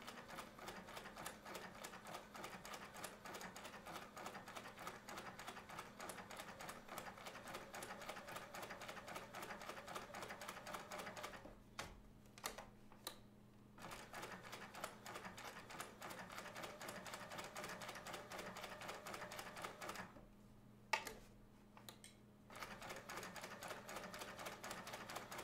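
A sewing machine stitches a quilted table runner in long, steady runs of fast rhythmic needle chatter, pausing twice with a few short clicks before resuming, fairly quiet and close.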